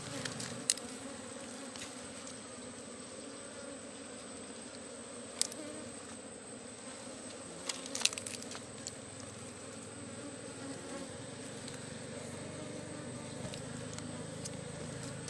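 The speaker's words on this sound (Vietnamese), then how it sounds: "Nha, ong đây nhá." A buzzing swarm of bees at a hanging nest, a steady close drone running throughout with a few sharp clicks and brief louder passes over it.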